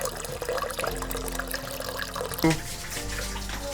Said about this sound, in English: So we're adding the water now to make the soup, right?